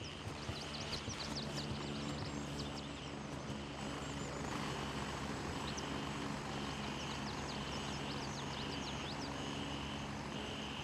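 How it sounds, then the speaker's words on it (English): A helicopter drones in the military shooter game Gray Zone Warfare, a steady distant rotor hum under jungle ambience with chirping birds and insects, no voices. "I think that helicopter is that guy coming back for his stuff"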